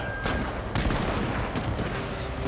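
Dense, continuous volleys of gunfire crackle for several seconds in the video game Shogun 2: Total War, with a sharp louder burst partway through, all without speech.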